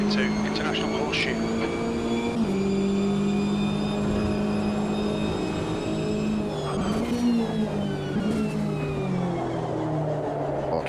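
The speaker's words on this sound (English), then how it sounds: "You can hear the traction control kind of bouncing around there." A race car engine in a racing video game drones and wavers in pitch, traction control causing stuttering fluctuations as it takes corners, continuous and loud.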